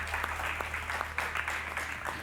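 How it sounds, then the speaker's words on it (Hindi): Loud, sustained applause from a studio audience for a quiz show contestant, with many individual claps standing out in a continuous wash. "नंबर 2 के लिए जोरदार तालियां बजाइए।"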